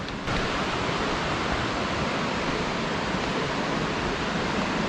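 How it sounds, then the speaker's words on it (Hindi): Waterfall in the Lauterbrunnen valley of Switzerland, heard as a constant broadband roar of falling water, steady and fairly loud throughout, with no talking. "वो है जी वाटरफॉल"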